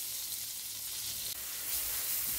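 Butter melting over medium heat in a pan gives a soft, steady sizzling hiss, continuous and fairly close, with no talking.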